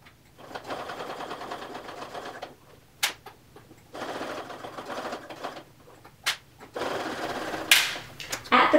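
A sewing machine stitching clear vinyl runs in short, rapid, whirring bursts separated by brief pauses, heard close up, with a person talking between and over the stitching.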